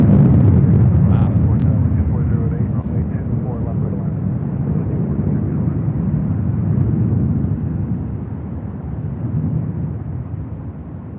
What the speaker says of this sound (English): Looks like we do have a Queen about to fly over us here in LAX.